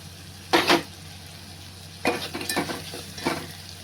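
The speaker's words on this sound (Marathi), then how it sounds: "हे सगळे पावडर मसाले टाकून चांगला भाजायचा तो मसाला व्यवस्थित" Powdered mutton masala spices roasting in hot oil as a spoon stirs the pan, three distinct scraping, sizzling strokes with a soft steady frying hiss between them, close and clear with no talking.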